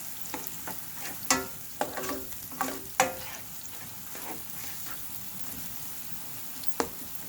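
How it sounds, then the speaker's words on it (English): Pork chop sauce simmering in a pan with a soft steady sizzle, while a spoon scrapes and taps against the pan in a few scattered strokes, close but fairly quiet. "going to allow that to simmer and just keep stirring"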